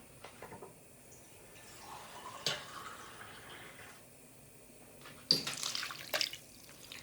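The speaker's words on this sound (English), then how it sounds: "I fill this tin up with some boiling water and I add that in there as well" Boiling water is poured from a tin into a pan of tomato sauce for gnocchi, giving a few short splashing pours and drips separated by quiet gaps, with no talking.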